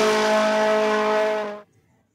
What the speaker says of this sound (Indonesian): lihat ini adalah mobil rally.